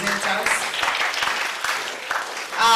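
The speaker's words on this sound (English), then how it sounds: "Another round of applause for our presenters." An audience at a leadership empowerment event applauds its presenters, a dense, continuous patter of many hands filling the room, with voices mixed in.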